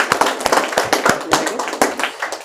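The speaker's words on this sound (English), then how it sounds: "Can you all clap for them?" Audience applause with a dense run of sharp, irregular hand claps, fairly close and lively, lasting a couple of seconds without any speech over it.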